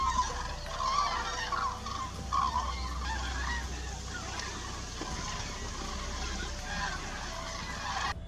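A flock of geese honks in rural farmland in Australia, repeated nasal calls scattered over steady background noise, fairly distant and faint, no voices.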